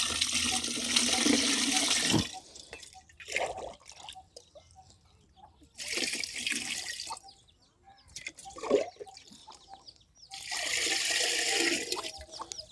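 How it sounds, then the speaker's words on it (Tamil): Water poured in bursts into a panchagavya mixture of cow products for organic farming, three loud rushing splashes of about two seconds each with quiet gaps between, no talk. "கடைசியாக வந்து ஒரு 5 லிட்டர் வந்து நம்ம தண்ணி வந்து இதில் சேர்த்துக்கிறோம்."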